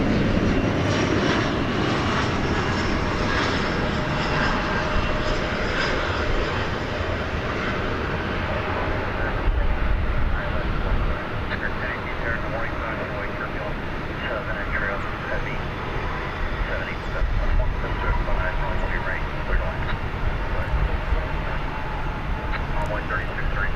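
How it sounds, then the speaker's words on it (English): Embraer 175 airliner arriving from Aguascalientes at foggy DFW Airport, a broad steady engine roar swelling and lingering as it passes, with someone talking over it. "And here comes the flight from Aguas Calientes, an Embraer 175."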